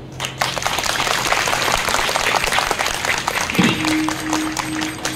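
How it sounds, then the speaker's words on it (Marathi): A large crowd at a kirtan applauds vigorously and continuously, dense clapping filling the space at a loud, steady level, with a brief tonal hum entering partway through. "मनापासून वाजवा"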